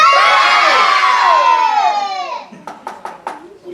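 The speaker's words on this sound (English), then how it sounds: "You're going to yell boo really loud" A group of children yells one loud, drawn-out "boo" together at a magic show, fading after a couple of seconds into scattered claps and cheers.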